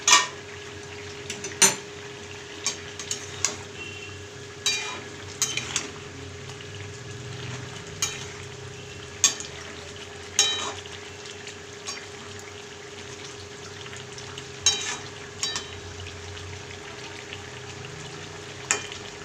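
Fish curry with potato, cauliflower and beans simmering under a lid in a pan, a steady low bubbling hiss broken by occasional light clinks and rattles, close and fairly quiet.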